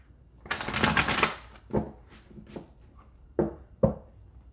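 Tarot-style chakra cards being shuffled by hand, a riffling burst of papery flutter followed by a few separate card taps and slaps, close and fairly quiet.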